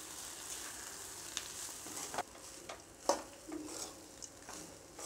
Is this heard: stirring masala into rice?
yes